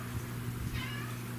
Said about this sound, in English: my cat's itching at the door